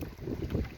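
Wind gusting over a lake on a solo canoe trip in Temagami, a short low rumbling buffet of wind noise against the microphone with faint water movement, steady and close, no voices.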